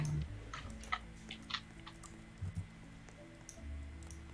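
Soft scattered key clicks of someone typing on a computer keyboard during a group voice call, faint and irregular, a few taps at a time with quiet gaps, no talk over it.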